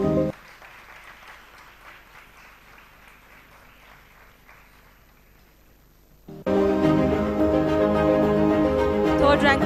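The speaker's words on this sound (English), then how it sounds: "Can we have the applause going, please?" Applause at a graduation and convocation ceremony, starting as moderate clapping from a crowd and then swelling abruptly into loud, dense, sustained applause for the last few seconds.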